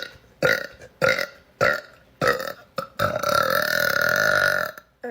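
A string of five short, punchy burps from a woman in quick rhythm, then one long drawn-out belch, all close and loud with no talking.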